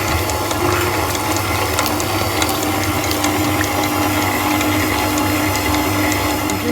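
Electric mixer whirring through banana bread batter, a steady mechanical grinding hum with a rattling, gear-like texture running continuously, close and fairly loud.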